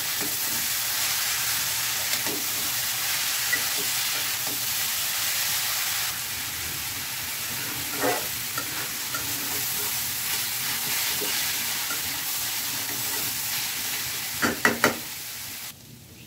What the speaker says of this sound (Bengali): এখন এটাকে মিক্স করে রান্না করে নেব